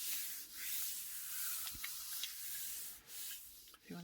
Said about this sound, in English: we'll grab a tea-dyed sheet and give it a good massage.